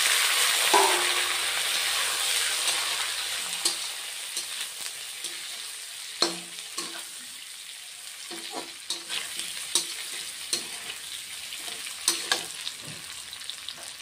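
Fried potato and pointed gourd pieces tumble into onions frying in oil, with a steady sizzle and a run of sharp scraping stir strokes and clinks over the fourteen seconds, close and clear, no voices.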